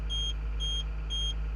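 Three evenly spaced, high-pitched warning beeps from the quick coupler of a Komatsu excavator, each short and clear, heard over a low steady engine hum with no talking.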